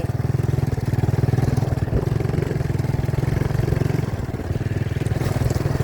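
A Thai motorcycle with a sidecar (saleng) riding over concrete, a steady loud putter of a small single-cylinder engine with rhythmic pulsing and rattling, continuous for several seconds.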